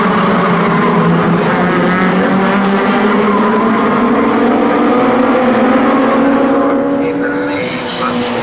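Legends race cars roar past in a pack down the Bentley Straight at Snetterton during a national championship race, several engines layered and pitch sliding as they pass, loud and continuous, with a commentator talking over them.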